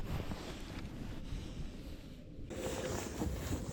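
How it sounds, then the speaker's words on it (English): Strong winter wind sweeps across Lake of the Ozarks during a cold bass-fishing outing, producing steady, loud buffeting and roaring on the microphone with no one speaking. "It is so windy right now."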